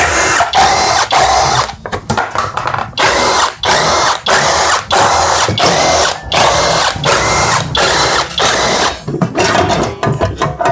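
A power tool whirs in repeated loud bursts of about a second each, with brief gaps and ratcheting clicks between them, close up while parts come off a new motorcycle that already has a problem.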